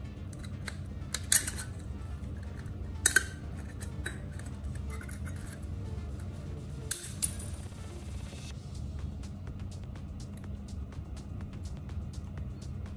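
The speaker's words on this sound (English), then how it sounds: "Take an empty Coca-Cola can and cut out a small section from the side wall" A utility knife slices through the thin aluminum wall of an empty Coca-Cola can, giving a few sharp scraping and clicking cuts in short bursts against a quiet background.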